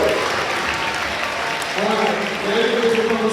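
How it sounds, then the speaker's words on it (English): A middle and high school audience at an MLK keynote gives sustained applause, a dense continuous wash of clapping with voices talking and cheering over it in the second half. "Now give yourselves a round of applause."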